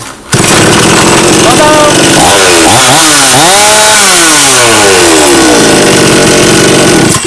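A Forest petrol chainsaw, freshly fitted with a new carburetor and spark plug, roars loud and close, its engine revving up and down through several swells before settling into a steady high whine.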